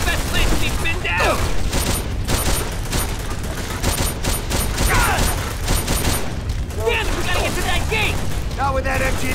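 Machine gun nest firing in Call of Duty: World at War on PS2, loud continuous bursts of battlefield gunfire with explosions, shouted voices over the din.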